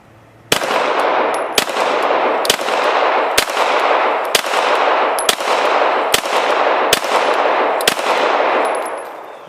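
Ten loud, close Glock 34 pistol shots ring out at a target at a steady pace of about one per second, each sharp crack followed by a long echoing wash.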